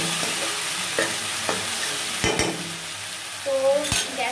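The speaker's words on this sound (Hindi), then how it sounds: "अच्छे से मैं मिक्स कर लूँगी।" Pointed gourd and potato curry is stirred in a frying pan, with continuous sizzling broken by a series of scraping spoon strokes against the pan, close and clear with no voices.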